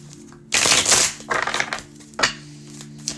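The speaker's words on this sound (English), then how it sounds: "I feel like this deck doesn't want to shuffle anymore." A tarot card deck being shuffled by hand: a few short bursts of riffling and shuffling cards, close and crisp, over a soft steady background hum, with no speech.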